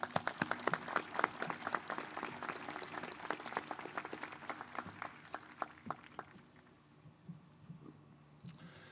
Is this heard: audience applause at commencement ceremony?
yes